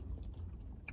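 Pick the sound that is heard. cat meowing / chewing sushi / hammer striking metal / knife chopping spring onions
chewing sushi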